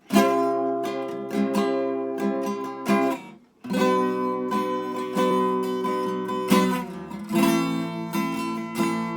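Sustained chords ring out in a few separate bursts, played in succession at a steady, full volume, with a brief dip partway through.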